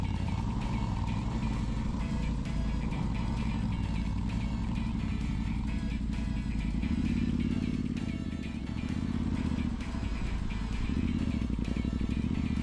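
An off-road adventure motorcycle spins its rear wheel on a muddy climb, its engine droning loudly and continuously at close range, with the revs swelling and surging partway through.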